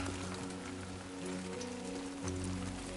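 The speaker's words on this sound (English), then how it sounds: "Rain. Gotta move." Steady rain falls in the video game Death Stranding 2, a dense continuous patter over a low sustained droning tone, with no voices.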